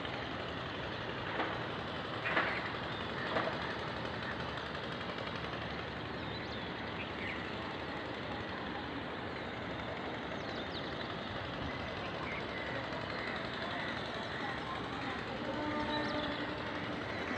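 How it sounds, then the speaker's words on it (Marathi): A Mumbai local train bound for Dadar runs past at a distance, a low continuous rumble with faint clanks and rattles of the wagons that swell slightly near the end. "आता ही दादर मध्ये चालली रेल्वे"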